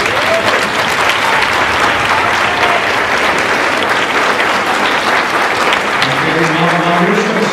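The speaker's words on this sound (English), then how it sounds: "please rise for a big round of applause" Sustained, dense applause from a large audience at a Pamlico Community College commencement ceremony, steady and close throughout, with a voice faintly audible beneath the clapping near the end.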